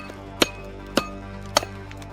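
Three sharp metallic strikes from a Viking tomahawk blade, gripped up near the head, land about half a second apart over a steady low hum, each one a crisp, close impact with a short ringing tail.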